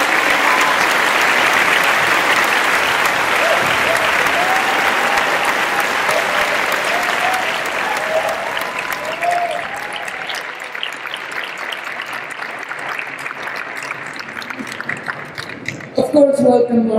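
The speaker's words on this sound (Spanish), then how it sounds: "Un aplauso para Lauren Stolper," Audience applause at a Mexico press conference welcoming drummer Laurence Tolhurst, a steady broad wash of clapping that fades gradually and thins toward the end, with a voice speaking over it.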